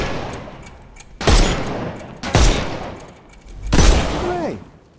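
Gunfire rings out in a Sherlock Holmes video game, three loud, sharp shots spaced about a second apart, each with a booming echo tail, close and prominent.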